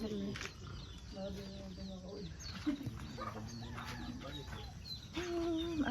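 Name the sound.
chickens clucking at campsite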